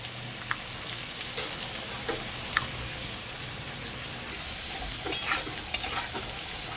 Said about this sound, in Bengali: উচ্ছেটা ভাজা হয়ে গেছে, তুলে দিচ্ছি।